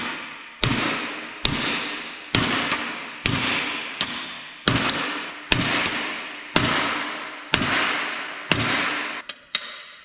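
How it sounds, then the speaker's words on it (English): Blacksmith-style hammer blows strike a bent piece of metal on a wrecker sling part, about ten loud ringing impacts at a steady, evenly spaced rhythm, each decaying before the next. "We'll do a little blacksmithing to take the bend out of it."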